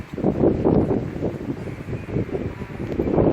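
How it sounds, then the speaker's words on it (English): Strong storm wind gusts buffet a handheld phone microphone outdoors in a severe May storm, a loud, continuous roar with surging pulses and no talking. "Might be gusting up here."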